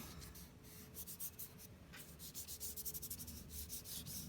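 Chalk pastel smeared across paper while drawing a pet portrait, heard as soft, close rubbing strokes that come in quick irregular bursts, quiet and alone with no talking.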